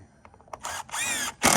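A power drill drives a screw into a singlewide trailer roof: a few light taps, then two sustained whirring bursts of the motor spinning up, followed by a final sharp loud burst, close and prominent.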